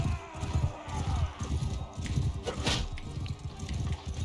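Horse hooves gallop in the medieval combat game Mount & Blade II: Bannerlord during a tournament, a quick, even clip-clop rhythm at moderate distance, fairly quiet, mixed with other game sounds.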